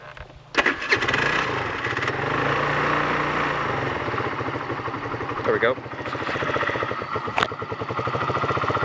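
A Chinese GY6 49cc scooter with a drilled exhaust cranks and catches, then settles into a buzzy, rapidly pulsing idle that stays close and steady, with someone speaking briefly over it.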